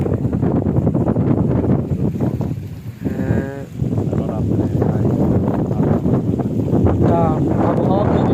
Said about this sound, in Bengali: অনেক জোরে জোরে ঠান্ডা বাতাস সাথে তুফান আসতেছে